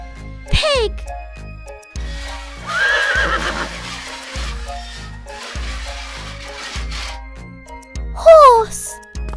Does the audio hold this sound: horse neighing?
yes